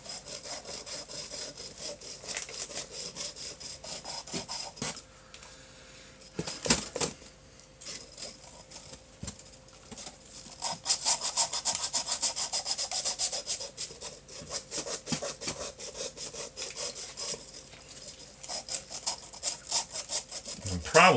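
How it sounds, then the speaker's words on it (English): Steady back-and-forth scraping of a drywall sanding pad rubbing over a surface, close and continuous with brief pauses. "we're making do with a sanding pad that you would actually use on your sheetrock."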